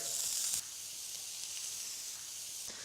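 Steak with shallots sizzling in a pan while being cooked for a red wine sauce, a steady close hiss of frying that is louder at the start and continues without talk.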